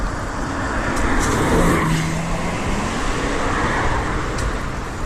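A BMW car passes close by on a city road, a broad steady roadway roar with a brief rise as it goes past, over constant traffic noise.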